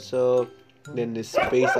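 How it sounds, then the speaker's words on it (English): A dog barks and yips a few times up close indoors, overlapping someone talking. "sorry for my dog"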